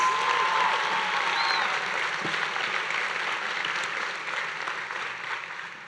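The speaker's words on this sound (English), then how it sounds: "Let's give our speakers one more round of applause." At a middle school honors ceremony, an audience applauds its student speakers with sustained, even clapping that slowly fades toward the end.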